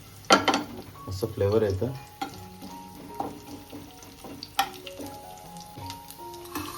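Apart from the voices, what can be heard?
curry leaves and crushed garlic sizzling in hot oil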